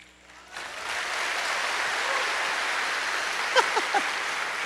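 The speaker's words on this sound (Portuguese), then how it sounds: "Essas palmas estão fraquinhas" Faint, sparse clapping from a church congregation during a sermon, starting after a brief quiet moment and holding steady at low level, with a few brief sharper sounds near the end.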